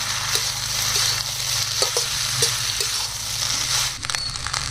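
Rice being mixed in a frying pan for chicken fried rice gives an even, close sizzle broken by repeated spatula scrapes and stirring strokes.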